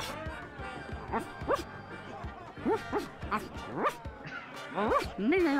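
A dog in The Secret of Monkey Island video game gives repeated yipping barks and whimpery woofs in an uneven rhythm, growing louder toward the end.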